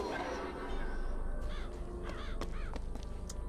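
Crows caw repeatedly in the video game Bioshock Infinite, a series of harsh calls rising over a dense, steady game soundscape.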